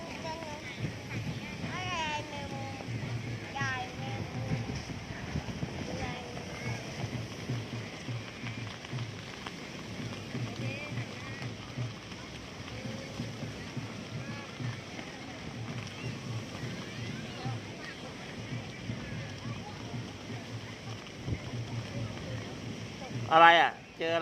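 Sea waves washing onto the beach at Pattaya, Thailand: a steady, close wash of surf and wind noise that runs throughout, with voices talking over it.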